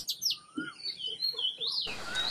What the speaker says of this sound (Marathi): सुंदर हळद्याचा असा स्वर ऐकून आम्हाला आश्चर्यच वाटले.